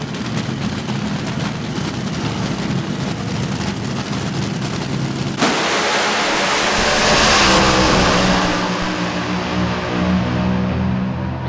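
A drag racing car's engine roaring loud and continuous during a run at a Bowling Green dragstrip, with a sudden surge partway through as the sound swells and then fades slightly, shaking tires and rough power delivery under a dense roar.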